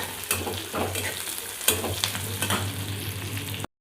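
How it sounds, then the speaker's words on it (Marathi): Onion and garlic fry in a pan until reddish, a continuous close sizzle broken by repeated scraping stirs and a low steady hum underneath, then an abrupt cut to silence. "इथं कांदा आणि लसूण लालसर करू द्यायचा"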